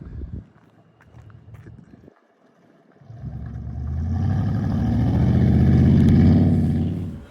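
A car pulling off and accelerating, its engine growing from a quiet rumble into a loud, close, rising roar that holds strong for several seconds before easing slightly.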